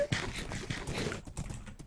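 Horse hooves clip-clop in Minecraft, a quick, uneven run of hoof hits under a busy mix of other game sounds.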